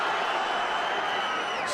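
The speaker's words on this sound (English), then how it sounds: "Crowd's going nuts." A large crowd roaring at a UFC fight in Abu Dhabi, a dense sustained wash of cheering that stays loud and even, with voices mixed into the din.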